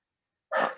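A single short, muffled bark from a dog at home, sudden and close after silence, then trailing off with no other sound.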